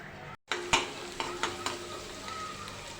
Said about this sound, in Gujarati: લસણને તેલમાં સાતળી લઈશું